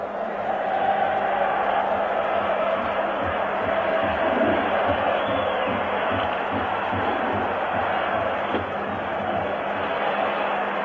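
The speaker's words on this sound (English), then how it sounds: "Most people in the stadium standing and singing. There's only an Italian crowd knows how." A dense Italian crowd in a football stadium at an AS Roma semi-final sings and roars continuously, a broad, distant-sounding wash of voices that stays steady throughout.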